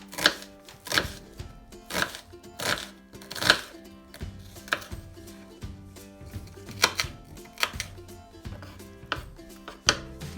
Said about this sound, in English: I'm cutting some red onions.